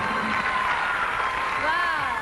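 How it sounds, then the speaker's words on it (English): A quiz show audience claps and cheers in a steady, dense burst of applause at a grand finals taping, with a voice talking over it. "And the crowd goes wild."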